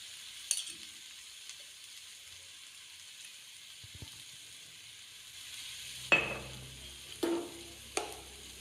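Four teaspoons of chili powder and three of coriander powder sauté in a pan with a soft, steady sizzle, broken near the end by a few sharp scrapes and clinks of stirring.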